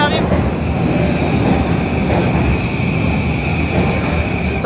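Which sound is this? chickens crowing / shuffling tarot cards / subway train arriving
subway train arriving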